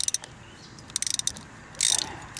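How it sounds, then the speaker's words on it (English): A 3/8 ratchet clicks in quick bursts while loosening the square gearbox fill plug on a 2006 Ford Ranger 3.0, close and crisp, with a brief louder rasp near the end and no talking. "There's a little plug in the back of the gearbox here, and you just take it off with a 3/8 ratchet."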